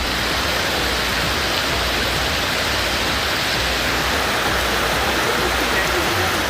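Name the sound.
floodwater rushing in a river after heavy rain in Kerala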